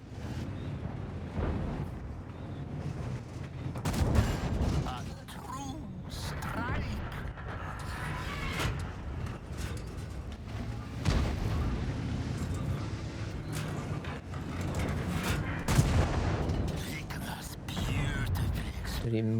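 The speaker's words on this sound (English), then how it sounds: "Taking a nice shot from artillery" Artillery fire striking a tank in the video game World of Tanks, with a few heavy booming impacts and mechanical clanks heard under ongoing talk.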